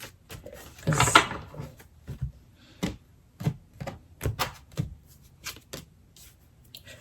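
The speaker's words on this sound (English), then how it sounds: "Let me cut the deck and pull out" A deck of tarot cards being cut, heard as a quick riffle followed by a series of soft, close taps and slaps of cards at irregular intervals in a quiet room.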